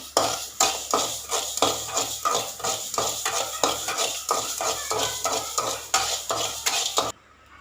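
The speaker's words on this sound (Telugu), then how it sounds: "ఆవాలు వేయించుకుంటున్నాం సిమ్లో పెట్టుకుని" Mustard seeds roasting in a dry pan over a low flame, crackling and ticking steadily with repeated rhythmic stirring scrapes, close and fairly loud throughout, no voices.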